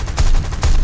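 A 37mm aircraft cannon fires in the video game War Thunder, two heavy thudding shots in quick succession, loud and close, under a steady engine drone.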